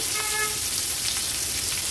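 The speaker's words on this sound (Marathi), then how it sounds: "आता फोडणीला आपण या हिरव्या मिरच्या आणि कांदा घालणार आहोत।" Green chilies and onion hit hot oil for a tempering and sizzle with a steady, loud, crackling hiss that runs throughout, with no voices.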